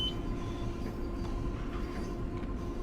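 A LIRR commuter train rolls along inside a train-driving game with a steady low rumble and drone of wheels and motors, a faint tonal whine riding on top, continuous and up close, with no talking.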